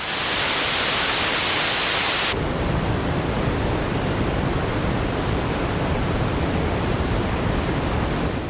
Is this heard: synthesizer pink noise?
yes